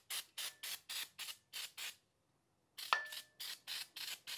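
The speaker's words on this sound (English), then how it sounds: "Now for some quick degreaser." Degreaser being sprayed on Porsche G50 pedal box cluster parts: a quick series of short, hissing trigger-spray bursts, a brief pause with a small metallic clink, then more evenly spaced bursts, close and with no talk.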